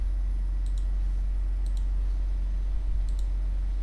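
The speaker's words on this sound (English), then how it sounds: "So just double click it to extract this zip file." A computer mouse gives three crisp double clicks spaced about a second apart, close and distinct over a low steady hum, with no talking.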